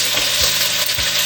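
Meat sizzles and fries in a hot pan for plov, a steady crackling hiss with a couple of soft stirring scrapes, close and fairly loud, no voices.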